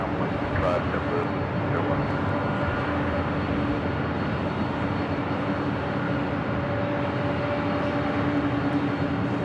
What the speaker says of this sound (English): Also have a Delta 767 to 300 ER, number 2 for takeoff here on the north side, 24 left.